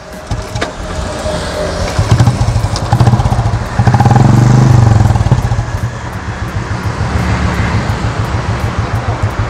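Royal Enfield Classic 350 ABS motorcycle fitted with an aftermarket silencer, started with one kick and then idling loudly nearby in a fast, even thumping beat that swells briefly as it is revved.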